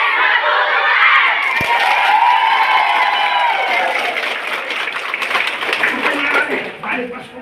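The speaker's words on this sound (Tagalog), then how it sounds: "Palakpakan, sigawan." A large crowd claps and shouts loudly and continuously, cheering voices and applause blending into a dense roar that eases slightly toward the end.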